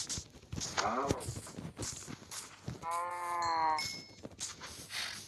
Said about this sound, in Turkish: Aha inek.